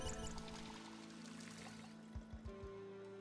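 Water pours into a tumbler in the zombie survival game Project Zomboid, a steady liquid stream for a few seconds that tapers off, followed by a few soft thuds.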